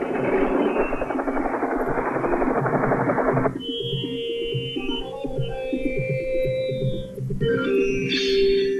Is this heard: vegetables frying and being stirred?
no